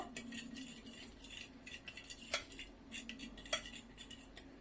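Batter with chili flakes and coriander is mixed by hand in a bowl, giving quiet, scattered spoon clinks and scrapes against the dish over a soft background hum.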